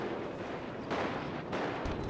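Gunfire in the GTA V video game, a continuous loud, dense burst of shots with two stronger blasts partway through, filling the whole moment.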